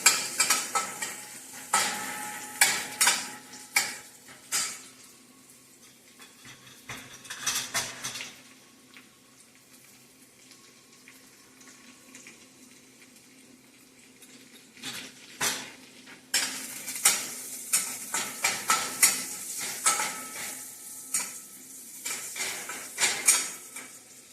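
Chili, garlic and onion sautéed in a pan for gongura leaves, with intermittent stirring clatter of a utensil against the pan over a soft sizzle, busier at the start and end.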